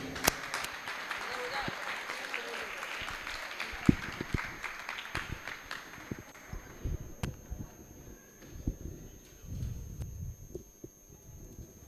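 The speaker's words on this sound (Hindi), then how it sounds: "जोरदार तालियां हो जाए एक बार।" An audience at a religious group discussion session breaks into applause that thins out and fades over several seconds into scattered claps, with voices and low murmuring underneath.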